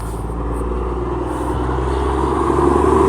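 A truck engine idles steadily beside a trailer under roadside repair, a low continuous rumble close by that grows slightly louder toward the end, with no talk over it.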